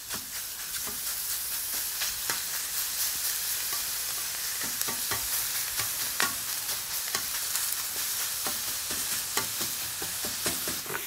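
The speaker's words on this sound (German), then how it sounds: "ich kann also hier mein gemischtes Hackfleisch auf die Plansche legen. Das hört sich auf jeden Fall heiß an." Mixed minced meat sizzles and crackles loudly on a hot griddle plate, a dense continuous frying hiss with scattered sharp pops and scraping stirs throughout, no voices.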